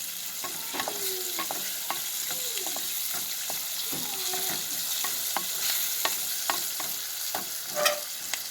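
Sliced onions fry in oil until golden brown, a continuous sizzle broken by frequent scraping stirs of a spoon against the pan.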